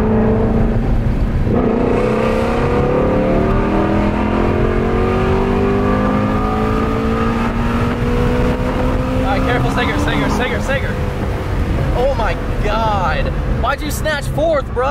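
A tuned manual Ford Shelby GT350 pulls hard through third gear, its engine note climbing loudly and continuously from inside the car before easing off, with voices talking throughout.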